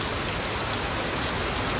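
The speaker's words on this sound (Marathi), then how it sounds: "बाहेर तर पाऊस पडते" Rain falls outside in a steady, unbroken wash of hiss, moderately loud and even for the whole short stretch, with no voices over it.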